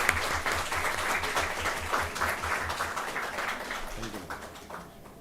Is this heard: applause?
yes